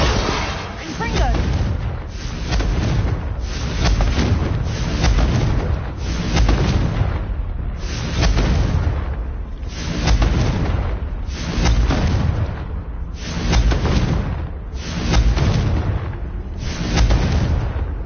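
Confringo blasting spells explode again and again in a Harry Potter video game, a loud, steady series of booming bursts roughly every second and a half over a continuous rumble.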